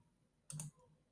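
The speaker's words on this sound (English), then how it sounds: "If I click enable," One quiet, sharp computer mouse click sounds once, brief and close in an otherwise near-silent room.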